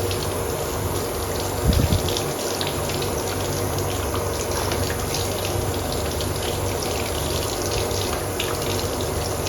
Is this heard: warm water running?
yes